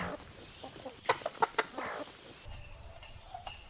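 Roosters and chickens cluck in a village yard, a few short bursts in quick succession near the middle, fairly faint, with soft background noise and a low rumble toward the end.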